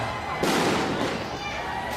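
Firecrackers go off at a night concert and festival crowd in Thailand, a loud dense crackling burst that surges partway through, with steady crowd noise underneath.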